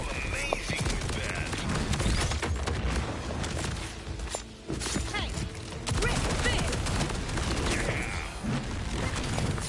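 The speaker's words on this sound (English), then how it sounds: "thank you for the minions for dying to my explosions, which cause all of the fireworks to happen" Explosions and fireworks from the Borderlands 4 video game, a dense, continuous barrage of booms, pops and rapid gunfire-like bursts with a brief dip midway before the chaos resumes.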